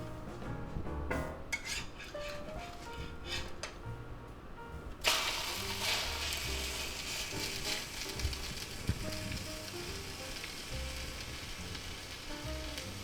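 Ham, spinach and onion toast fries in a pan, first with light clinks of cookware, then a sudden steady sizzle that holds quietly for several seconds with occasional scrapes and no talking.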